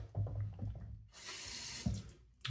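Tap water runs into a sink while more water is worked into beef tallow shave lather, a steady broadband splash in the middle of the clip, framed by brief handling and lather sounds before and after.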